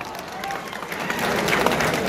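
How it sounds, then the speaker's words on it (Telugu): Scattered clapping from an audience at a diary launch event, fairly quiet and uneven, building slightly toward the end with a murmur of the crowd underneath. "చప్పట్లు గట్టిగా"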